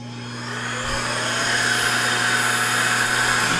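Rodex electric blower spinning up and blasting air at a cardboard box, a steady high whine and rushing air that builds over the first second and holds loud and close, no talk.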